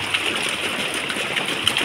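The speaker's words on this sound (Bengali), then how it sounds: "এই দেখুন আমাদের কেমন বৃষ্টি হচ্ছে।" Heavy rain pours down outside a home by a flooded pond, a steady dense hiss of water with small splashes, continuous and fairly close, no voices.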